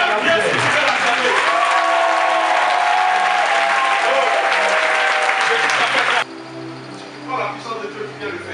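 A large crowd at a night prayer vigil in Abidjan bursts into loud, sustained applause and cheering that fills the space for about six seconds, then cuts off abruptly, leaving quieter murmurs and scattered sounds.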